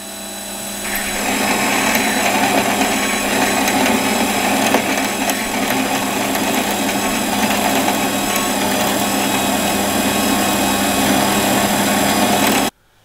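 A lathe drills a hole out to 20 mm with a tailstock-mounted drill, giving a steady, loud machine whir and cutting noise that runs continuously, then cuts off abruptly near the end.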